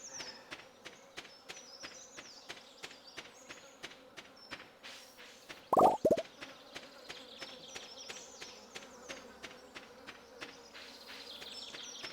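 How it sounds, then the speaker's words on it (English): Summer insects buzzing in the Stardew Valley farming game: a steady drone of bugs under a quick, regular patter of footsteps, with a brief louder knock midway. "in the summer, every once in a while, there's like a sound of bugs buzzing around"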